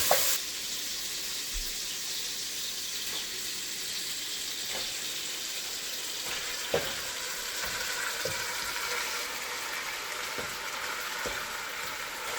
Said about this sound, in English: you want to spend a lot of time with the pot, making sure that your meat gets brown